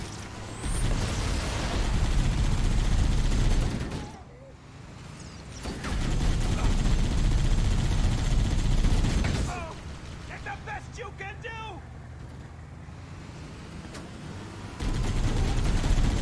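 Gunfire in the video game Halo: Combat Evolved comes as long, dense bursts of rapid automatic shots, loud and close, broken by brief pauses before the firing resumes.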